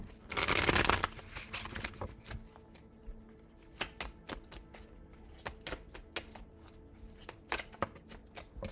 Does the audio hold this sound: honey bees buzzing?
no